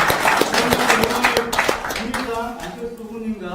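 Applause from an audience closes a citizens' committee meeting in a Sejong city hall conference room, with scattered claps and a voice speaking over the clapping before it thins out.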